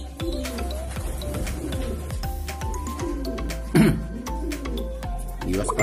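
Racing pigeons coo softly in a loft, low throaty calls repeating amid steady background hum and faint rustling, with a louder coo near the middle.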